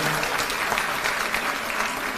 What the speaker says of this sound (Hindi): एक बार जोरदार ताली बजा दीजिए सब लोगों के लिए।